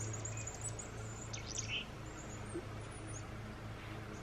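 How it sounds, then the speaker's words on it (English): A bird chirps on a hike outdoors, a few short high calls standing out faintly over a steady low background hum of wind and surroundings, with no talking. "I think I pissed off a bird."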